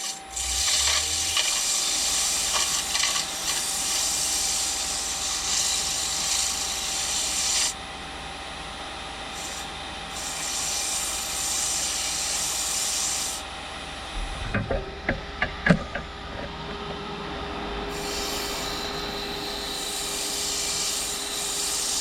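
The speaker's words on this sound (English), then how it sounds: "Now I got to sand it." A turned wooden bowl is sanded on a spinning lathe: a continuous close rasping hiss over a steady motor hum, with pauses in the abrasion and a cluster of knocks partway through.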